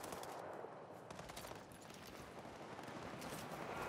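Rapid bursts of automatic gunfire from a weapon in the World War 3 shooter game, dense crackling shots that run continuously and closely spaced throughout.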